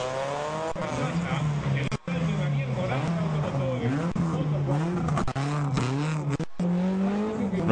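A Ford Focus rally car sets off on a national championship rally stage, its engine revving repeatedly in rising and falling sweeps, loud and close, with a commentator talking over it.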